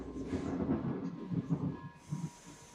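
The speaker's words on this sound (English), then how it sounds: "I can get off the train before it stops fully." A train rolls in and brakes to a stop, a steady low rumble of wheels and carriage with a hiss as it slows, close and fairly loud with no voices.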